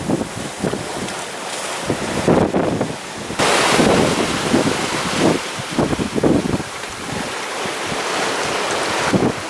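Strong wind buffets the microphone in gusty surges over rushing water and waves against a moving sailing boat at sea with a following wind, loud and close, with no voices.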